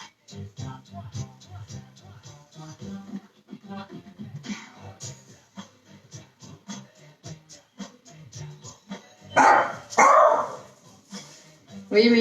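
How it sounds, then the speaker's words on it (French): Two dogs bark in short bursts at the ring of a doorbell, the loudest barks coming late, heard over a kitchen background with a person talking. "j'ai deux chiens, voilà, vous avez entendu"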